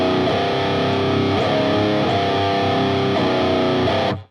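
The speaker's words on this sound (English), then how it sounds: "just power chords on the low 2 strings" A heavily distorted electric guitar plays slow power chords on the low two strings for a riff. Loud, sustained chords change every second or so, then cut off abruptly at the end.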